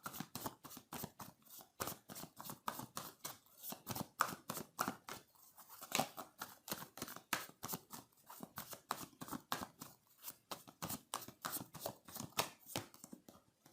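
Tarot cards are shuffled and drawn from a deck close by, giving quick crisp riffling flicks in a fast irregular rhythm that runs throughout without talk.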